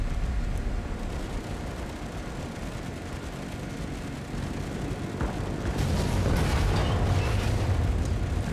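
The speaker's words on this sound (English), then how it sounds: "there goes the anti-aircraft fire that the American ships are very, very, very distinguished by" American warships firing anti-aircraft guns in World of Warships, a dense, rumbling barrage of distant booms and pops that thickens and grows louder toward the end.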